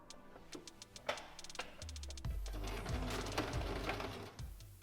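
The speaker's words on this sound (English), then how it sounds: "We're going to stitch on the right side, having wrong sides together." A sewing machine stitches a seam on fabric, with rapid mechanical ticking bursts that start and stop, then a sustained whirring run of stitching, close and clear.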